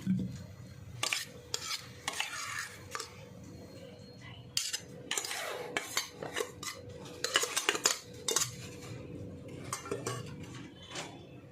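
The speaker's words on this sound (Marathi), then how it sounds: "आता हे सगळं आपल्याला मिक्स करून घ्यायचं आहे" Corn kernels stirred with spices in a bowl, a spoon scraping and clinking against the sides in repeated irregular strokes, close and fairly loud with no talking.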